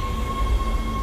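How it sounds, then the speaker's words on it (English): Inside the Dead Space video game, a tram rumbles into the flight deck station with a steady low rail drone and a sustained mechanical hum, loud and continuous with no talking. "Tram arriving at flight deck station."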